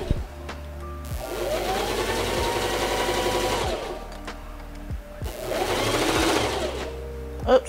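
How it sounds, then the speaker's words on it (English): A sewing machine stitches ribbon onto fabric for a tutu in two steady, fast runs separated by a short pause, loud and close, with a few clicks and handling sounds between. "I like to just sew it to the edge, okay? All right, and then you're just gonna start sewing."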